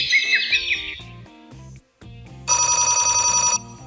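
An electronic synthesizer telephone ring sound effect: a bright warbling trill, a pause, then a second longer burst of rapid ringing tones over a faint synthetic backing.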